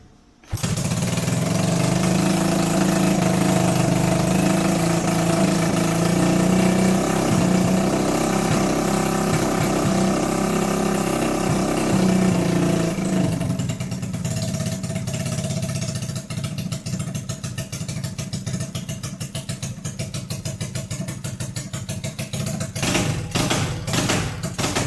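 A dirtbike engine being converted into an adventure bike fires up and runs loudly, a steady close mechanical drone that shifts to an uneven idle before rattling at the end.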